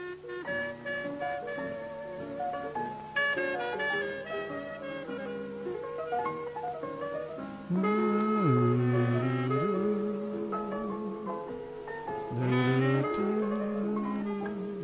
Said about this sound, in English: This is a clarinet that we're hearing, the lead.